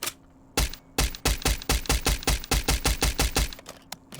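A suppressed semi-automatic BAS-B rifle in Fallout 4 fires a steady rapid string of about seventeen sharp, loud, evenly spaced shots that sound barely muffled, with no talk.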